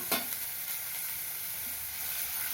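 Finely chopped onions sautéing in a hot pan, a steady close sizzle throughout with a brief stirring scrape at the start, no voices.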